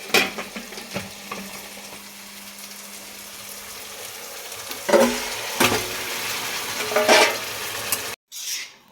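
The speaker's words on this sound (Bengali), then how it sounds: "আর এখানে লিওর চিকেন ভাতটাও বসাতে হবে।" Chicken and rice cooking in a pan, a steady soft sizzle with occasional stirring scrapes and clinks, louder bursts near the end before a brief cut.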